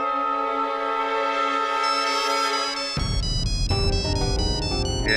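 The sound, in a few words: mobile phone ringtone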